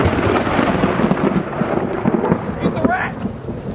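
Heavy rain pours down steadily outdoors while thunder rumbles low and continuous beneath it, a loud, dense wash of water with no speech over it.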